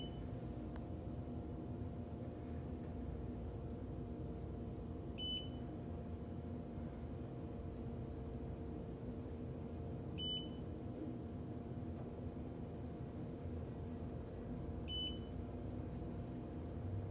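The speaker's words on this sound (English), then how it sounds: "And I got the stupid beep chimes." Three short electronic beep chimes spaced evenly about five seconds apart over a steady low mechanical hum of a Schindler 3300 elevator going up.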